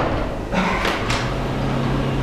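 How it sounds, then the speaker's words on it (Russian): Sliding doors on a Moscow metro train close with a brief pneumatic hiss and thud partway through, set against the constant loud rumble of the carriage. "Осторожно, двери закрываются."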